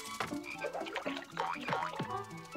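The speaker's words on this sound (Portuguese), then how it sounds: "Sapos em cima de vitórias régias, certo." Frogs sitting on water lily pads in a cartoon croak in a busy, overlapping chorus of close, bubbly, rising calls repeating several times a second.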